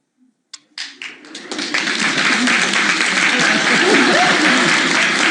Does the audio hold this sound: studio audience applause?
yes